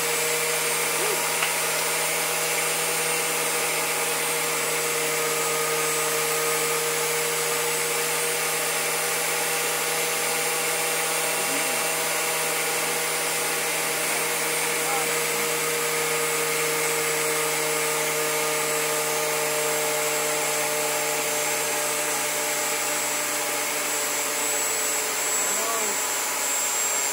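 Tesla turbine spinning at high RPM while driving a 1200-watt electrical load gives a steady, loud whining hum with a constant low drone and bright high-pitched whir that holds unchanged throughout, like a vacuum motor.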